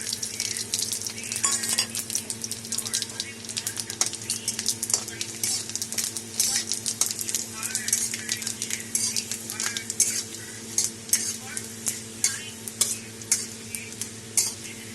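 Dried red chillies, bay leaves, whole cumin and fenugreek seeds sizzle steadily in hot oil for a tomato and red lentil dal. A utensil stirs and clinks against the pan throughout.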